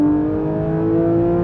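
Porsche sports car accelerating nearby, a steady loud engine drone with strong harmonics held throughout, no talking.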